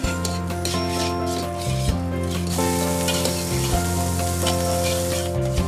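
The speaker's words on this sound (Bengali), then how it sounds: "এরপর কড়াইতে ডিম মাখানো রাইস দিয়ে দেব, সোনালি রং না হওয়া পর্যন্ত ভাজতে থাকবো" Egg-coated rice fries in a wok with a steady, soft sizzle that runs beneath prominent background music, with no talking.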